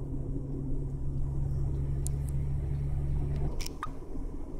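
A manual-transmission car accelerates in third gear, its engine a steady low rumble heard from inside the cabin, dropping off near the end amid a few faint clicks and rustles.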